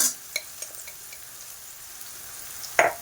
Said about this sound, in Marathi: आता आपण याच्यामध्ये लसणाची जी पेस्ट आहे ती पण घालून घेऊया